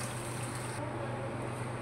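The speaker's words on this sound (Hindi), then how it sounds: "3 गिलास में इसमें पानी ऐड करूँगी।" Water poured into a cooking pot for zeera rice, a steady, even gush that runs continuously and fairly close, with no voices over it.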